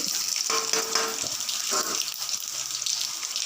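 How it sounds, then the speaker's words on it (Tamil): Mustard seeds, chana dal and garlic sizzle in hot oil, a steady close-up crackling hiss that runs continuously with small surges and pops. "பாருங்கள், எண்ணெய் நல்லா காஞ்சிடுச்சு. இப்போ நான் கடுகு, கடலைப்பருப்பு,"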